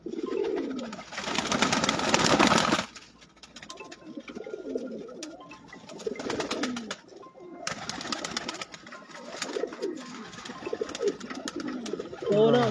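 Pigeons coo in rolling, repeated low calls, close and clear, broken by bursts of loud rushing noise like wing flapping or handling.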